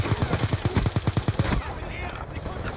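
An SMR rifle fires in Call of Duty Black Ops 2 multiplayer: about ten loud, evenly spaced shots in a rapid rhythmic burst that stops abruptly, followed by quieter game ambience and a thin whine.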